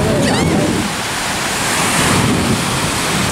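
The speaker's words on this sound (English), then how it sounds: "y'all can look at the waves" Ocean waves breaking on a beach, a steady broadband wash of surf that swells and fades across the clip, loud and close with no talking over it.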